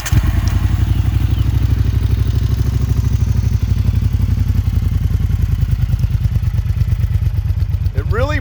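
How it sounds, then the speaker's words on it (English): A Triumph Bonneville T120 parallel-twin from 2018 idles through a Yoshimura straight-pipe exhaust, a loud, close, steady rapid pulsing with a mechanical clatter, running continuously without talk. "It really brought a lot of the nice tones of the engine, that nice sewing machine almost sound to the engine back."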